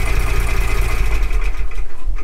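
A sailboat engine runs loud and close, a steady low chugging throb with a rhythmic pulse that roughens slightly toward the end, with no voices over it.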